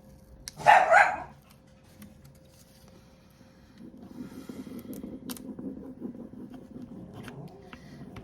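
One short, sharp burst of dog barking up close, followed by quiet and then a low, steady rumbling.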